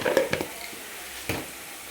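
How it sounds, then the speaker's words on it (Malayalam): Onions with spice paste being stirred in a frying pan, soft scraping strokes over a low sizzle, a few quick stirs at the start and another near the end, close and fairly quiet. "അടിച്ച് വെച്ചേക്കുന്ന കൂട്ടെല്ലാം ചേർത്ത് കൊടുത്ത് ഇനി ലൈറ്റ് ബ്രൗൺ കളർ ആവും വരെ ഇളക്കി കൊടുക്കും"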